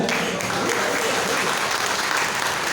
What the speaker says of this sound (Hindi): जोरदार तालियां, जोरदार तालियां